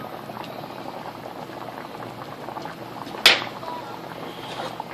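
A pot of liquid boils on a stove with a steady bubbling hiss throughout, punctuated by one sharp clink partway through.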